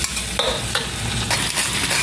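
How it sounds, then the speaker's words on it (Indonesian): Ground chili paste and garlic going into oil that is not yet very hot, giving a steady close sizzle with scraping stirs and short bursts of frying noise, with no voices. "Ke dalam minyak yang belum terlalu panas saya masukkan cabai giling plus bawang putih"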